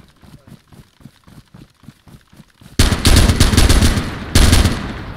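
Gunfire from a big gun in the video game DayZ: after a stretch of soft rhythmic thuds, a loud, dense burst of shots erupts and keeps going, with a second heavy volley near the end.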